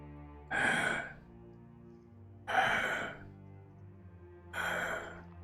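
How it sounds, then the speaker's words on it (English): A breathing sound effect from a cave in a Dungeons and Dragons game: three slow, drawn-out breaths, evenly spaced about two seconds apart, each a soft airy rush that fades before the next. "It sounds like there are a couple of sources of this breathing."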